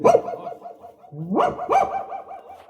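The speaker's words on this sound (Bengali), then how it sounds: "হঠাৎ একটা কুকুর" A dog barks near a road, several loud, close barks in a quick uneven series with short pauses between them.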